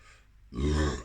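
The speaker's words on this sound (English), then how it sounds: "Apologies for the burp, that was disgusting." A short, deep burp after drinking a carbonated Lidl Down South Brewing bitter beer, close and alone, rising abruptly after a quiet moment and holding for about half a second.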